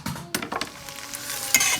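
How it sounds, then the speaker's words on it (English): Onions fry in palm oil in a pan while a utensil stirs and scrapes against the metal, with a few clinks, close up. "So I am frying my onions in palm oil."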